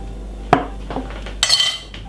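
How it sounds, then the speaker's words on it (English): A metal teaspoon clinks against a dish a few times while hot chocolate is spooned into a smoothie: a handful of sharp, close taps spaced apart, with quiet pauses between them. "I'm gonna put a teaspoon of hot chocolate."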